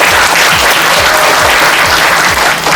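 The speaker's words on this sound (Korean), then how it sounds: "다시 한번 박수 드려주십시오." Sustained applause from a large lecture audience honoring a veteran Korean actor, dense and loud throughout with steady clapping and no talk.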